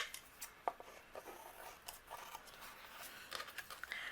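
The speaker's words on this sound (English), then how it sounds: "I'm just going to trim this off with my scissors." Quiet, crisp snipping and rustling of scissors cutting paper up close, in short irregular bursts.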